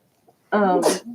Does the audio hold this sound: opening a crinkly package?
no